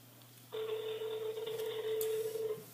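Ringback tone of an outgoing phone call to someone who does not answer: a steady electronic ring tone begins after a short pause and holds, clear and fairly loud, with no talk over it.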